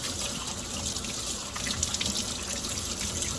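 Steady broadband rush of tap water running from a faucet into a sink while hands are washed, continuous and close, with slight splashing variations and no voices.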